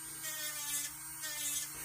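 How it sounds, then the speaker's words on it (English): A small electric drill fitted with a non-safety bit whirs steadily near the microphone, its motor pitch swelling in two brief bursts over a constant hum, with no talking. "Now I do like this drill."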